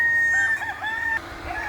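A rooster at a farm animal sanctuary crows loudly and close by in one long, wavering call, followed by a short, quieter tail.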